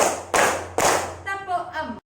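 A primary school class claps hands in a counted rhythm during a classroom lesson: two sharp, loud group claps, after which a voice counts aloud.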